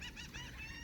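Birds raising a brief harsh squawking chorus in a heavily fruiting backyard fig tree, close and fairly loud for under a second.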